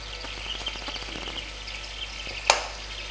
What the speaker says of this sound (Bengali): একটু ঘেটে ঘেটে দেবো এরমভাবে, যাতে বেগুনগুলো একটু গলে যায়